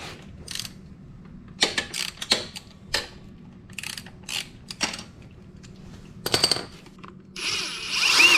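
Bolts on the oil filter cover of a Yamaha WR250R motorcycle are loosened with a hand tool: close bursts of quick ratcheting clicks separated by short pauses, with a louder scraping rattle at the end.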